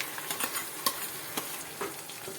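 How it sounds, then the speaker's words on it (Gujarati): Onion and tomato paste tipped into a frying pan over ginger-garlic paste for a corn curry, giving a soft steady sizzle with scattered stirring scrapes and clicks, close and alone with no talk. "હવે આપણે ડુંગળી અને ટમેટાની પેસ્ટ રાખી છે તેને પણ નાખી દેવાની છે."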